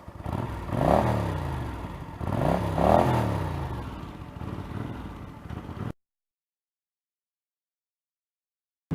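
A 1981 Honda GL500 Silverwing Interstate motorcycle revs twice up close, each rise in engine pitch swelling and falling back to idle, before the sound cuts to silence.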